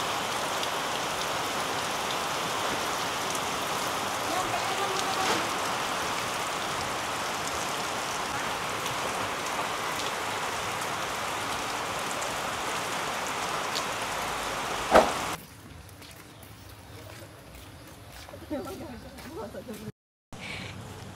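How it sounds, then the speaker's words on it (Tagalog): A heavy downpour hisses steadily for most of the stretch, loud and unbroken, then drops off sharply near the end as the sound becomes muffled and quieter, with voices faintly present. "Grabe, nag-uulan po mga kalangga."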